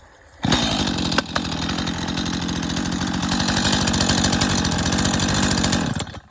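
A STIHL MS251C-BE chainsaw engine catches after a short, slow pull on its easy-start cord and runs steadily at a loud, buzzing idle for several seconds, then cuts off abruptly.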